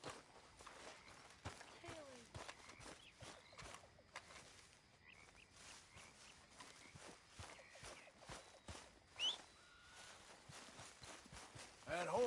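Steady clip-clop of horse hooves at a walking pace in Red Dead Redemption 2, faint and continuous, with light background ambience.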